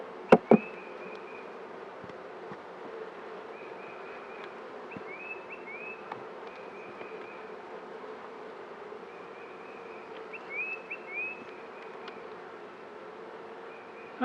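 Honey bees hum in a steady, low drone throughout an open-hive inspection among frames of honey and pollen, with a few sharp knocks at the start and end.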